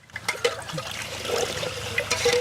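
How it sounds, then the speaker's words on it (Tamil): Mixed milk for grape-flavoured pipe ice is poured into a plastic ice pipe, giving a steady close trickle and gurgle of liquid for a couple of seconds with no talking. "பால்லாம் கலக்கி வச்சிருக்கிற ஊத்திக்கலாம் பைப்ல"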